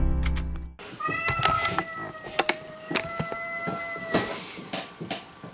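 An indoor cat that suffers occasional seizures howls and meows repeatedly in drawn-out, wavering cries, loud and close, over a short burst of low rumble at the start.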